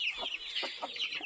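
Hens cluck in a short, fairly quiet burst of repeated soft calls, heard close up in a backyard chicken coop with no talking.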